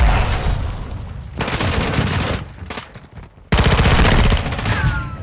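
Bursts of automatic gunfire in Modern Warfare II, loud and close, with rapid rhythmic shots in two long volleys separated by a brief lull and scattered softer shots.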